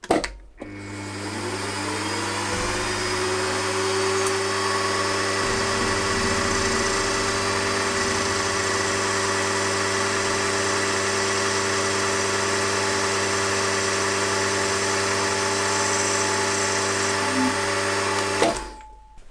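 A milling machine cuts the cylinder head of a model opposed-twin engine with an 11mm two-flute end mill at a shallow 0.1-inch depth. A steady tonal motor whine and hum spins up, holds evenly, then winds down, with no speech.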